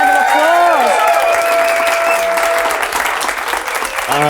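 Audience applause and cheering at a career retrospective event, a dense steady roar of clapping with some whoops, loud and continuous, with a brief voice at the end.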